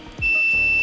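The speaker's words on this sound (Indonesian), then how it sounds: "Ini maksudnya kalau dia di-short-kan, itu dia ada bunyi beep gitu ya." A multimeter on continuity test gives a single steady high electronic beep that starts abruptly and holds, loud and close, during repair of a JBL Flip 4 wireless speaker.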